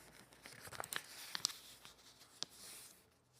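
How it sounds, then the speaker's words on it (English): A sheet of paper being folded for a pop-up book sketch: a few crisp crinkles and creases in quick succession, close and fairly quiet, with no talking. "I actually need to fold a new paper,"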